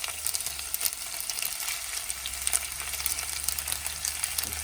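Tomato and basil pasta sauce sizzles steadily in a hot pan while a spoon stirs it. Faint scraping and bubbling sit over a constant close frying hiss, with no voices.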